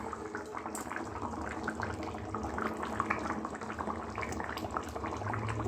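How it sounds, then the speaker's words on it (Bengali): Fish curry boils in a pot with a continuous, dense bubbling and gurgling that stays close and fairly soft throughout. "মাছের ঝোলটা ফোটাতে দিয়ে গেছি, টকবক টকবক করে ফুটছে।"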